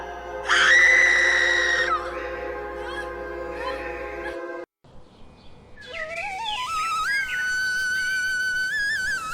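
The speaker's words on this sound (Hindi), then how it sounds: "आत्मा चीखती है।" A spirit's drawn-out, shrill scream rings out as a horror story sound effect, loud and wavering, followed after a brief silence by a second rising, warbling wail.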